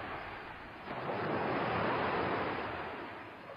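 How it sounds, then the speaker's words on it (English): Strong, high ocean waves surging around a small boat at sea: a steady, loud wash of surf that swells in the middle and eases off, with no voices. "The waves were strong and high."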